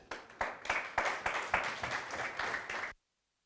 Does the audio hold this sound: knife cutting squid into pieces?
no